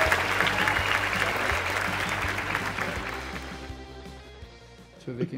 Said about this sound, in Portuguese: Senhoras e senhores, palmas pro Vitor Hugo, palmas pro Isaías.